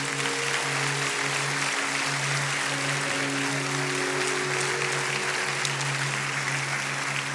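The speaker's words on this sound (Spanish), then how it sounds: "Démosle un aplauso a todos estos hermanos." Steady applause from a crowd fills the room, constant and moderately loud, with a sustained musical tone underneath.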